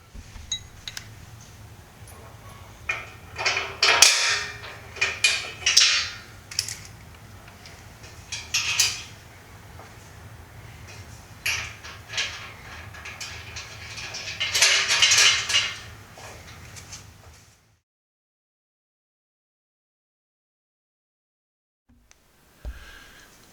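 Metal hardware clinks and clanks as a nut, bolt and spacer are fitted to the ladder of a BendPak four-post car lift, with repeated sharp metallic taps and scrapes over roughly seventeen seconds, then near silence.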